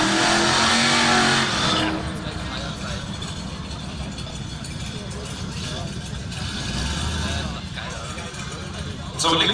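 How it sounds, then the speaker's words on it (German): At an airfield drag race, a 120 PS Chevy Camaro and a 175 PS VW Käfer sit at the start, engines rumbling and revving loudly up close under steady commentary from an announcer. "Jetzt unterwegs im Chevy Camaro. 120 PS nebendran Markus im VW Käfer mit 175 PS."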